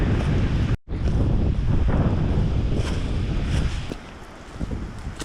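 Strong wind on a hike buffets the microphone in loud, roaring gusts, briefly cutting out, then easing to a softer rush near the end.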